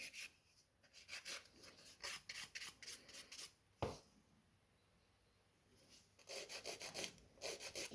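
A hand file rasps across fiber gel nail extensions in quick, close, quiet strokes, bursts of rhythmic scraping separated by a short pause and a single tap.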